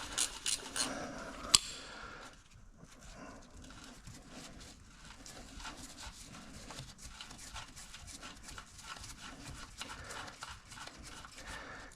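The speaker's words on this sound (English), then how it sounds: "Actually 2 more that I like to use a speed ratchet with." Speed ratchet spun back and forth on bolts at the starter side of a Nissan Z31 during a transmission drop, giving a steady run of fast small metallic clicks and clinks, close and moderately quiet, after a few louder knocks at the start.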